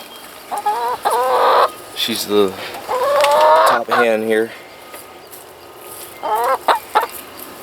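Chickens cluck and squawk nearby in repeated bursts, with a person speaking briefly between the calls.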